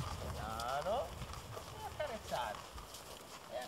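A young horse being started in natural horsemanship training steps slowly sideways, its hooves making soft, irregular thuds on the ground beneath a person talking steadily in Italian.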